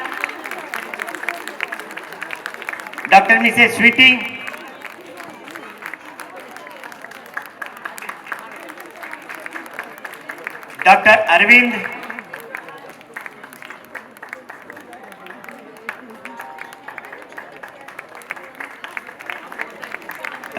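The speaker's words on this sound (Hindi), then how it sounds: "तालियों में कमी नहीं होनी चाहिए," Two short bursts of audience clapping at a Holi Milan celebration in Patna break out between a man's microphone announcements, each lasting about a second and fading back under his speech.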